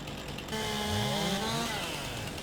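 Chainsaw felling trees in Farming Simulator 22, a steady buzzing engine drone that revs up and holds through the cut, loud and close with no talking.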